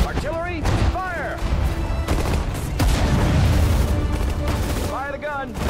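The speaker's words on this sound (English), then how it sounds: "Artillery, fire!" Heavy booming artillery and gunfire from the World War II strategy game Sudden Strike 4, a dense ongoing barrage with repeated blasts, loud and layered, with shouted voices over it.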